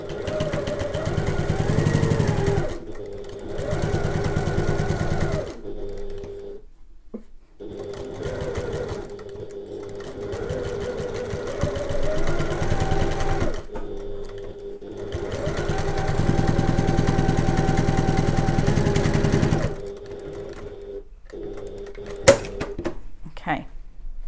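A domestic sewing machine stitches the second side of a fabric tote bag in several whirring runs separated by short pauses, close and steady, with someone talking between runs.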